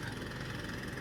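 A lawn mower cutting grass nearby, heard from around a 2022 Mercedes C-Class, gives off a faint, steady engine drone that holds evenly throughout with no speech over it.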